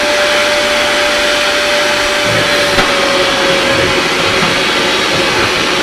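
Vevor shop vacuum running with its hose plugged up, a steady loud whine and roar with a fixed high tone throughout, close and unbroken.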